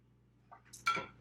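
A grilled cheese sandwich set down in the middle of a frying pan, with a couple of light metallic clinks followed by a short, soft clatter, close and isolated.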